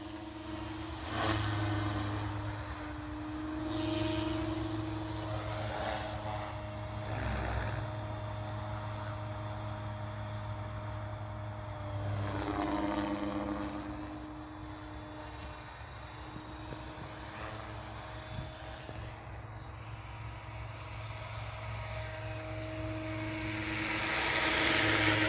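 A three-blade SAB Goblin 570 6S RC helicopter flies outdoors with a continuous whirring rotor and motor drone that swells and fades as it passes near and far.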